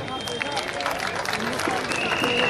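Audience applause at a mushaira poetry gathering in Bhopal, a dense, continuous patter of many hands clapping close by with crowd babble underneath.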